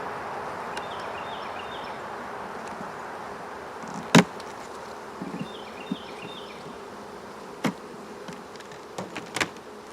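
Honey bees droning steadily inside a hive during a spring inspection, a dense close buzz with a few louder individual bees passing near, plus faint clicks of handling.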